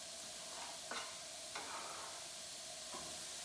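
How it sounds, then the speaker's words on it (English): Onions sautéing in a pan over medium-high heat give a steady, fairly quiet sizzle, with a few soft scrapes of a scraper breaking through at intervals and no voices. "So we're going to saute these onions on medium-high heat for probably about 3 minutes or so until they start to turn a little bit golden."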